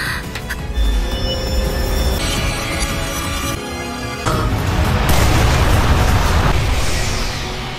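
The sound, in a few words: big explosion in an anime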